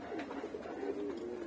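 A stray guest pigeon that settled in a home loft gives a soft, close coo, a low rolling call repeated across a brief moment with no talk over it.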